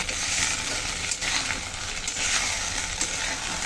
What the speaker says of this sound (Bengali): আমি এখন একটু জল দিয়ে মশলাটা আবার সুন্দর করে কষিয়ে নেব